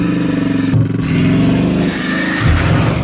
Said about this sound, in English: it's essentially the same engine as you get in the Super Sport 300 Plus, so it should sound something like this.